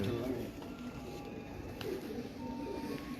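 A pigeon coos in a bird gallery, soft low rolling calls repeating close by while someone talks over them.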